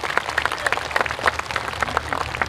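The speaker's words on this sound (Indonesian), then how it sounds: "Tepuk tangan untuk Bapak Erlangga Hartarto." An audience at a Golkar Maulid Nabi sholawat gathering bursts into applause, loud, irregular individual claps over a crowd murmur, with no speech on top.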